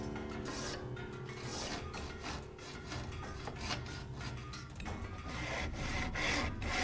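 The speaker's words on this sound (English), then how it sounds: "After that, a file was used to sharpen the teeth." A hand file sharpens the teeth of a refurbished 42-inch Curtis handsaw blade, giving steady, repeated rasping strokes in a close, even rhythm with faint metallic scraping and no talk.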